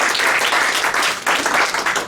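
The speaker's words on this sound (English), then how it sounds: "let's give her a big round of applause" An audience breaks into dense, sustained applause for a state senate candidate in Illinois' 22nd District, a continuous wash of clapping that swells and stays loud throughout.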